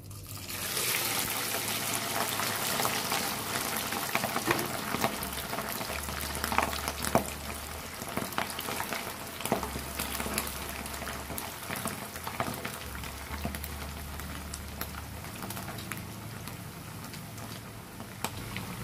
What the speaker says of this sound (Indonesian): ini minyaknya sudah benar-benar panas langsung aja kita masukkan semua dagingnya